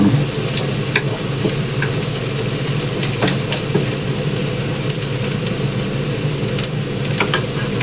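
Garlic sizzles steadily in a hot pan as the start of ginisang bihon, a continuous frying crackle with light stirring clinks and no talking.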